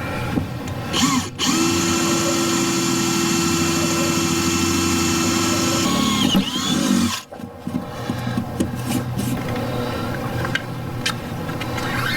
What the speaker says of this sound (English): So we'll drill a hole and then set up the adapter to run the wires through the wall.